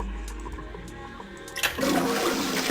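An old-fashioned toilet flushes in the Zero Escape video game, opening with a sudden loud rush of water that keeps churning steadily after a quiet mechanical click.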